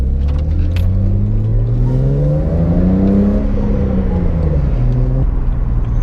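A BMW 128i engine drones from inside the moving car, its pitch climbing steadily as it accelerates and then easing back down, loud and continuous with no talk over it.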